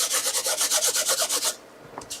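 An embossing buddy is rubbed back and forth over glue on a crafting surface in quick, even strokes, about a dozen close scratchy swipes in a row, then a pause and a couple more brief rubs.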